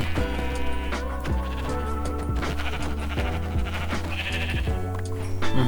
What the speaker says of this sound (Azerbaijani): Əvvəlcə bu qoyunu öldürək.